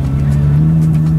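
A new Corvette Z06 engine holds a low, steady throaty drone close by at a car show, with a slight rise in revs near the end.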